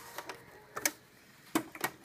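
A sewing machine runs a straight stitch along a seam on homemade towel pants in short, quiet bursts of rapid mechanical clatter separated by pauses.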